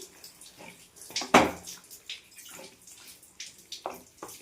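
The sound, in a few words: water poured into pan of okra curry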